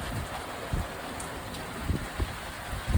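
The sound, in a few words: rain in Wonder Valley, California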